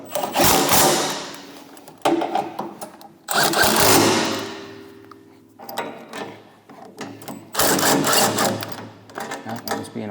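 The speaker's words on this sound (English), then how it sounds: "take my 3/4 socket on the impact again and snug those all up" An impact wrench with a 3/4 socket snugs bolts on a MUSKOX 26-84 snowblower during fan motor replacement, firing several loud, close rattling bursts of about a second each with brief gaps between them.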